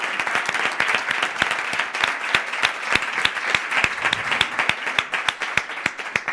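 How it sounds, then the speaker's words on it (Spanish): Steady audience applause for two guests, Leonor and Alejandro, at a live songwriting talk event, dense clapping from many hands with sharp individual claps standing out, fairly close and continuous without speech. "Otro aplauso grande para ellos."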